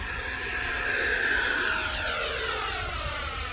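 E-flite F-16 Viper radio-controlled jet with an 80mm electric ducted fan flying past, a steady loud whooshing whine that holds level throughout with a slowly shifting pitch.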